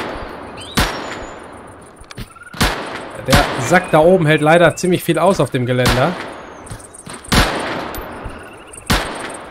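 Gunfire in the survival shooter Deadside cracks out in sharp, scattered shots at varied distances, some single and some in quick bursts, under German voices talking over the action.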